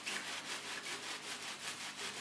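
Hands rub the edges of wet felt in a felt-making kit to seal them, giving a soft, rhythmic, faint scrubbing friction sound repeated in quick, even strokes with no voices.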